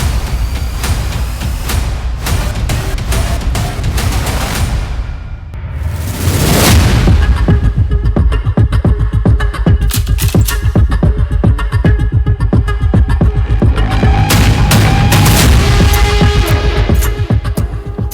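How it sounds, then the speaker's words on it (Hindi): Gunfire at night in the Naugam sector of Kupwara: repeated sharp cracks and booming reports crowd together in rapid bursts, loud and reverberant, with a short lull partway through before heavier firing resumes. "चार और 5 मई की रात कुपवाड़ा में अचानक गोलियां गूंजी।"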